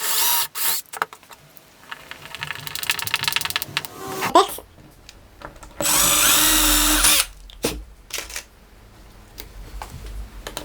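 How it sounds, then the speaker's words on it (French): An electric drill pre-drills small 1.5 mm pilot holes in wood for drawer slide screws, with several short whirring bursts and one longer sustained run up close, separated by quieter clicks and handling noise. "Je vais venir prépercer pour pouvoir venir mettre une vis et fixer ma glissière."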